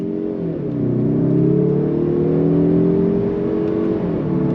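A 2024 Mazda 3 Turbo engine revs up under throttle, a steady loud mid-pitched drone that climbs and holds through the rev range, with no voices.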